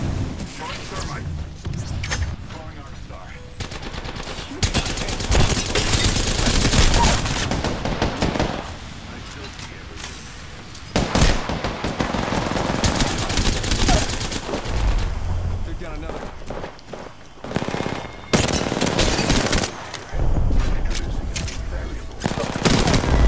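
Dense gunfire and explosions from a shooter video game, with bursts of automatic fire, frag and thermite blasts, and repeated shots under voiced game callouts.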